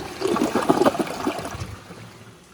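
An American Standard Champion 4 Max toilet, a 2015 model, flushes a bowl loaded with wet grass, giving a close, loud rush and gurgle of draining water that swells quickly and then fades to a quiet trickle.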